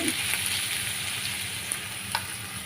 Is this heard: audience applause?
no